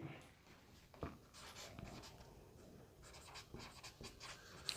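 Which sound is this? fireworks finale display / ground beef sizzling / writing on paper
writing on paper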